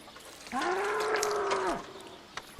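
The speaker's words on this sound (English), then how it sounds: "We don't have a cow. We have a bull." A bull gives a single long, steady moo lasting over a second, fairly close and alone against quiet outdoor background.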